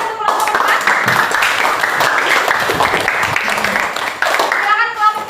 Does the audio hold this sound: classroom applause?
yes